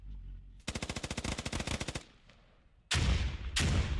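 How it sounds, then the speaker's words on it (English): SAW machine gun fire in a squad-based shooter game: one long rapid burst of about a second and a half, followed by a lull and then two loud, heavy bursts of gunfire, with no talking. "We got some saw fire by Sensei Mike."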